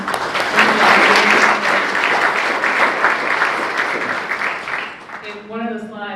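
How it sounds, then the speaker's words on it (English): An audience at a business power lunch gives a panel a round of applause, loud sustained clapping that tapers toward the end as a voice begins speaking over it. "let's give our panel another round of applause"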